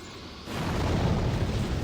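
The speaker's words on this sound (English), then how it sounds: "the explosion really isn't that big after all." An explosion in the video game Demon's Souls sets off a dense, sustained rumbling roar that swells after a quieter start and keeps booming without a break.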